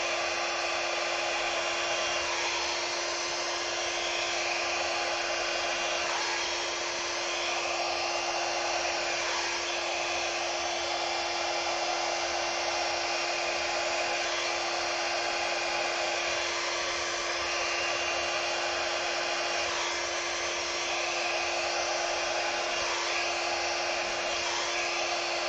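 A hair dryer blows steadily and loudly on a poured acrylic paint piece made with glue pouring medium, a continuous close whooshing hum with a fixed whine running the whole time, no talking.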